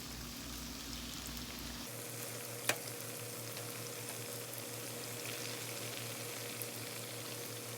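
Donut holes fry in grease held at 375 degrees, a steady close sizzle and bubbling that carries on alone with one small clink partway through.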